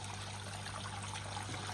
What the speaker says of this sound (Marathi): आवाज पाण्याचा आवाज येतो का, पाण्याचा आवाज